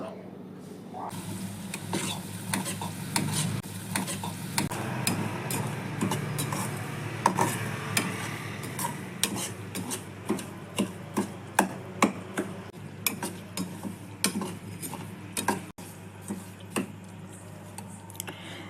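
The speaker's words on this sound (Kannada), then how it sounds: "ರವೆಯನ್ನು ಸಣ್ಣ ಉರಿಯಲ್ಲಿ ಹುರ್ಕೋಬೇಕು" Repeated scraping and tapping of a spoon against a pan as semolina is roasted on low heat and stirred, steady clicks growing sharper over time, with faint background hum.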